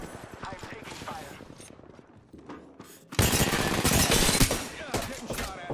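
Rapid gunfire from the video game Apex Legends, dense overlapping shots that swell loud and close partway through, mixed with game sounds and some voice.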